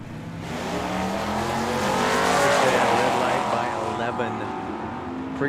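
A 1972 Dodge Dart and a Mustang launch side by side at a Tucson drag strip, a loud engine roar swelling and sustaining for several seconds before easing off, with an announcer's voice over it.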